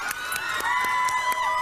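Audience at Grauman's Chinese Theater cheering with whoops and shouts, a loud, dense crowd burst over the whole brief moment.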